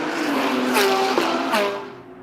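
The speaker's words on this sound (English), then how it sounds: "Turbocharged Ferrari comes through" A turbocharged Ferrari GT race car passes at speed on the Indianapolis Motor Speedway road course, a loud close engine roar with a falling pitch as it goes by, fading at the end.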